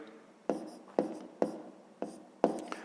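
Handwriting on paper while working a fifth-grade maths exercise: five quick close strokes, each a sharp scratch that fades, spaced about half a second apart in a quiet room.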